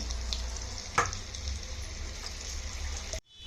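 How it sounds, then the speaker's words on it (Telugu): Gobi 65 cauliflower pieces fry in hot oil with a steady, close sizzle and bubbling, plus one brief stir or splash, before the sound cuts off abruptly. "మిగతావన్నీ కూడా అయితే వేయించేసుకొని పెట్టుకోండి"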